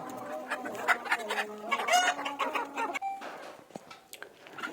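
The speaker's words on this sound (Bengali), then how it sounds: "মুরগিগুলোকে ধরে নিতেছি।" Native chickens cluck and squawk loudly in agitated bursts while being caught by hand, wings flapping in between, with no one talking.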